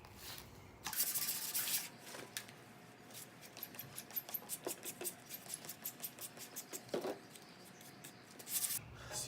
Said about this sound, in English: So you want to continue just sanding it down with like 320.